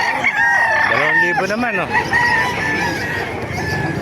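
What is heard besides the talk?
many chickens crowing and clucking at a chicken market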